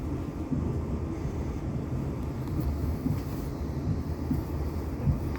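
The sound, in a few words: train approaching junction near Woking station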